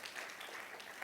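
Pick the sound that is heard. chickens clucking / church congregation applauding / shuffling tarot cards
church congregation applauding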